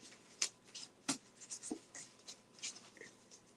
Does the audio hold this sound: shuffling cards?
yes